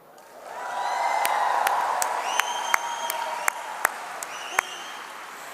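A large audience at an entrepreneurship summit applauds during Ivanka Trump's speech. The applause swells into a broad, sustained roar, with a few louder nearby claps standing out on top.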